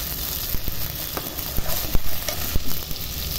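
Spice paste with tomato, onion paste, turmeric, chili, salt and coriander powder frying in a pan, a loud steady sizzle broken by sharp stirring knocks and scrapes at irregular intervals.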